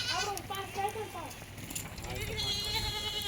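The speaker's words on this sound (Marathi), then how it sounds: "बघू शकता या शेळ्या गाडीमध्ये येत आहे" Dairy goats bleat repeatedly in a vehicle as they are loaded, several wavering cries overlapping close by, with voices talking in the background.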